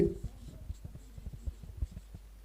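A pen writing on paper at close range, with a quick series of soft scratchy strokes and taps after a brief voice at the start.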